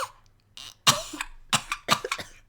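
A person imitates a series of small, fake little-girl coughs: about five short, breathy bursts in an uneven rhythm, close and fairly loud, with a throat-clearing quality between them.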